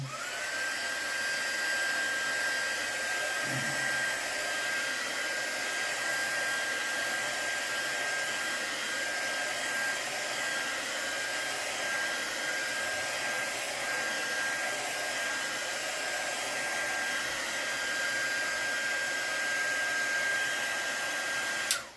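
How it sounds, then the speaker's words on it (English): Heat gun running continuously over a gessoed art journal page, a loud even blowing roar with a thin high whine, holding for about twenty seconds before a small clunk at the end. "I'm going to run my heat gun."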